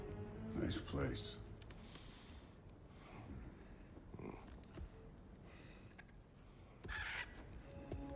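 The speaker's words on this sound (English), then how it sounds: "Aren't those Odin's crows?" In God of War Ragnarök, crows caw a few times in separate bursts, faint and low in the game mix, along with other quiet game sounds.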